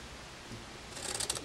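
Scissors snip through cardstock score lines while making a gift box, a short burst of crisp cuts near the end after quiet.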